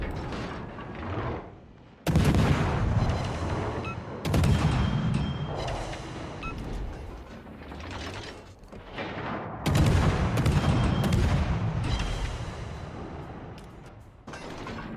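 Naval artillery salvos in World of Warships, with heavy booming shell fire that comes in several loud bursts and sustained rumbling between them, close and dense, with no talking.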